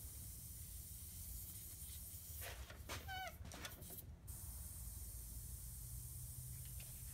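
Air hisses steadily and faintly from a punctured RX8 car tire with a screw lodged in it, with a few brief, louder rustling noises partway through.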